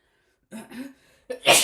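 A single close sneeze: a short breathy intake followed by a sharp, noisy burst, after a moment of silence.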